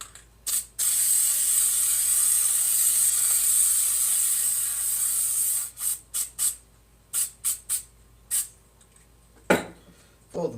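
A long, hissing spray from a can coats the side of an egg box for several seconds, then a run of short, sharp spray bursts and a clatter follow.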